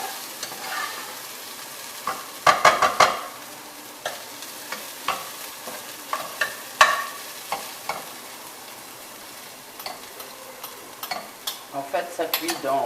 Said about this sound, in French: Donc, je rajoute le vin blanc.